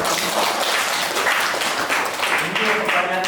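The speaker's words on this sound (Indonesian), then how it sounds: "Rahmatnya kita beri tepuk tangan." Students in a university lecture hall clap for a classmate who asked a question, a loud burst of applause close by with voices mixed in beneath it.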